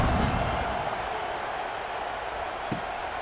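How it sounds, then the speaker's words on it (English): A video game stadium crowd in EA College Football 26 buzzes with a steady roar and scattered applause after a score, loud and continuous, with a faint commentary voice underneath. "this crowd is buzzing after that last score"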